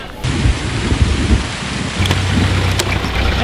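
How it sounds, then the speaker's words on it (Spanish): Heavy tropical downpour with thunder in Viñales, Cuba, a dense loud roar of rain with low rumbling and sharp drop impacts close by, no talk. "está empezando a llover"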